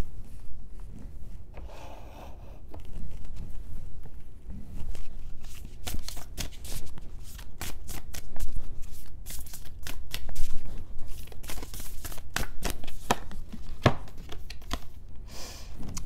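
Tarot cards are shuffled in repeated riffling bursts with sharp paper slaps and clicks, close and fairly loud, continuing steadily with brief pauses.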